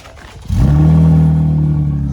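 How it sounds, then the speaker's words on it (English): A widebody Mustang fitted with only a catback exhaust and no tailpipes fires into a loud, close rev after a quiet moment, then holds a deep, steady growling drone. "That's got a growl to it, bro. It sounds like a V8."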